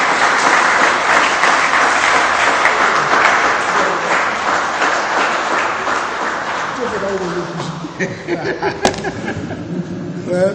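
A crowd at a community gathering gives loud, sustained applause welcoming a speaker, the clapping thinning toward the end as voices and a few scattered claps take over.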